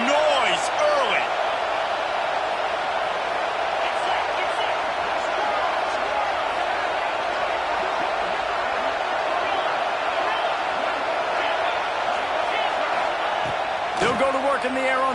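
Crowd noise from a college football video game fills the stadium as a continuous loud roar, with a commentator speaking over it at the start and again near the end.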